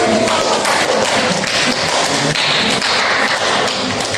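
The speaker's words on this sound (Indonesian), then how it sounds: "kita beri aplaus" An audience applauds after a group presentation in a classroom, a dense, loud wash of clapping that carries on throughout.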